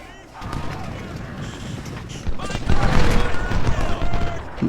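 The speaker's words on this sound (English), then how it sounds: "Zook is firing at Burns" Rifle fire from troops in a video game battle, a rolling crackle of many overlapping shots that swells louder partway through, with a voice speaking over the gunfire.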